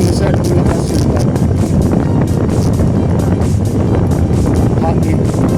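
Strong wind roars steadily across the microphone during an open-field bike ride toward Pamplona, a loud continuous rush with buffeting gusts throughout, and a voice speaks faintly beneath it.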